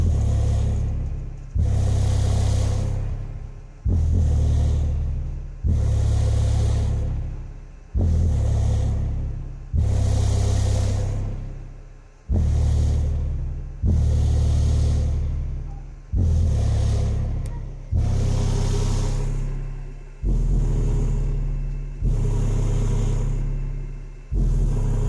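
A Sub Excursion Timpano TPT-T2500 12-inch subwoofer pounds out loud, deep bass indoors in a house, heavy repeated booming pulses roughly every two seconds that each decay before the next hit.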